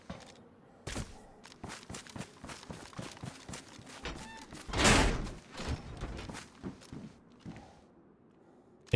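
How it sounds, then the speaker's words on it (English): Footsteps thud irregularly at moderate distance in the survival game DayZ, with a louder crash-like burst partway through and soft background noise. "Yeah, I hear footsteps,"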